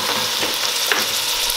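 Ground beef and sausage sizzle loudly in a hot pan, a continuous close frying hiss with a few faint stirring knocks and no speech.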